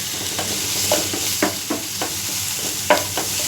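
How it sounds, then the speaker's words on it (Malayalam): Ginger garlic paste sizzles in a pan for prawns masala, a steady close hiss broken by a series of rhythmic scraping stirs from a spoon. "ഞാനിപ്പോൾ ഇവിടെ ഒരു 2 ടീസ്പൂൺ ജിഞ്ചർ ഗാർലിക് പേസ്റ്റ് ഇട്ട് കൊടുക്കുന്നുണ്ട്"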